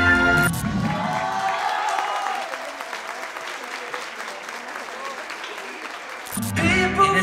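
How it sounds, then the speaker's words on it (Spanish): Guests at a quinceañera party in Zumpango break into a long round of applause and cheering, sustained for several seconds, with music and voices at the start and end. "El aplauso para la hermana Getsemaní."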